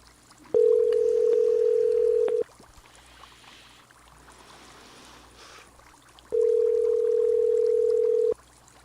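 Telephone dial tone sounds on a call-back attempt, two long steady tones about two seconds each separated by a quiet gap of faint line hiss, close and clear with no talking.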